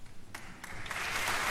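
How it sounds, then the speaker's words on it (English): Applause building from near silence, a few scattered claps at first, then a thickening, steady crowd clapping that grows louder toward the end. "Standing ovation."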